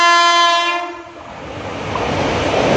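A passenger train at Guruvayur railway station sounds a loud, sustained horn that cuts off, then the rumble and rattle of the rolling train carries on close by, with no voices.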